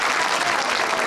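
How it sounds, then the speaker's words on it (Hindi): Steady, dense clapping from a live show audience fills the whole moment, loud and close with no break. "तालियां इसके लिए"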